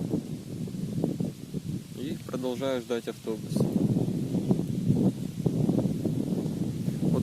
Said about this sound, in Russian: Вот вроде, знаете, ветер горячий, но такой ураган раздражает.